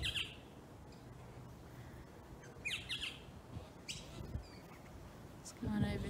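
Magpies calling from the trees outdoors, scattered sharp chirps and squawks at a distance, faint against a quiet background.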